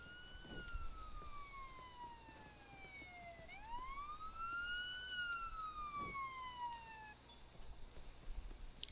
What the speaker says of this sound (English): Ambulance actually showed up.